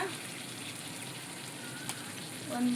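Ginger garlic paste sizzling in a pan for birthday biryani: a steady, fine crackling fry with faint kitchen sounds and a brief voice at the end.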